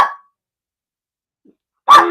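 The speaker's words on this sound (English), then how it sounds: "Okay, these dogs is crazy" Dogs bark in two short bursts, one at the very start and a louder one near the end, separated by near silence indoors.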